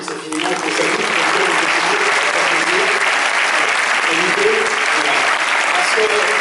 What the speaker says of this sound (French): Je voudrais qu'on applaudisse infiniment, qu'on salue,